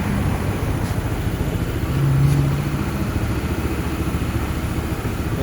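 Honda PCX 160 scooter engine idling steadily, a low continuous hum with a slight swell around the middle, close and moderately loud, no voices.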